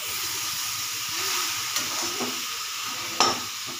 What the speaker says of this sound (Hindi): इसे मैं भून रही हूँ लगातार चलाते हुए